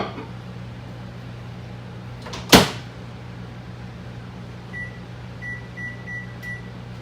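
A microwave oven heats a glass-lidded dish of chicken in broth, giving a steady low electrical hum throughout, with one sharp door or latch clack partway through and a few short beeps near the end.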